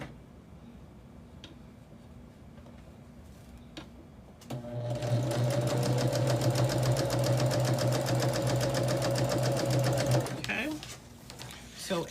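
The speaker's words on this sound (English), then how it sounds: "Chain stitch just means that when I was stitching, I did not stop and cut." A home sewing machine chain stitching a quilt block, whirring in a steady loud mechanical run for about six seconds after a quiet start, then stopping.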